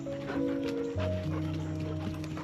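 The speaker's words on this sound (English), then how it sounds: "Dogs are in a crazy mood." Several excited dogs outdoors let out high, drawn-out whines and yips that overlap in a continuous run, fairly close and loud, with no talk over them.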